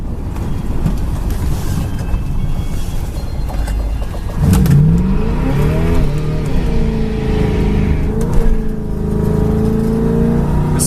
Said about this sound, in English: This thing just smokes the tires.